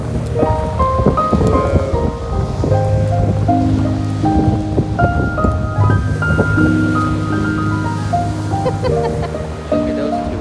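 Strong wind blows outdoors while eagles glide overhead, a continuous loud roar and buffeting with tonal sounds layered over it throughout.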